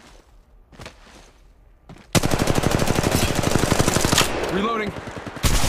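Rapid automatic gunfire in Apex Legends Mobile, a loud continuous burst of closely spaced shots lasting several seconds after a few scattered quieter sounds, with a game voice line heard.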